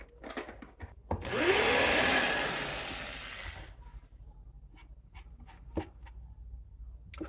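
A power drill whirs for a few seconds with a high, rising buzz that winds down while drilling a Partscaster-style electric guitar body, surrounded by scattered clicks and handling noises in a quiet room.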